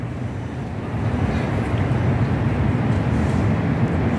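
Outdoors in the bitter cold near a snowman castle, wind roars against the microphone in a loud, steady rumble that swells after the first second and keeps going.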